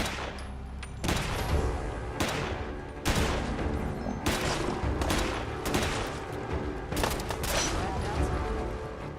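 Heavy gunfire in a Fallout 4 fight against creatures emerging from fog, with loud, repeated overlapping shots and blasts that come in bursts roughly every second, close and dense, continuing throughout.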